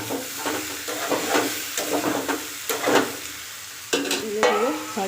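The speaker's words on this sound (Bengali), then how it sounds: "ভাজা ভাজা করে নিলাম, কষে নিলাম ভালো করে।" Jackfruit curry frying in a pan while being stirred, with a soft sizzle under repeated scraping strokes of the spoon.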